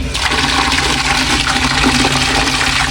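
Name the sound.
strong flow of water from tap in comfort room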